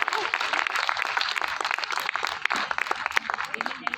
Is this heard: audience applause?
yes